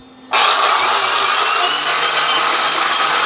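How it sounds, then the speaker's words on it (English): A bench grinder with a wire wheel, started from a floor foot pedal in a metal shop, kicks on abruptly and then runs as a steady, loud, continuous whine with no voices over it. "Just turn your grinder on."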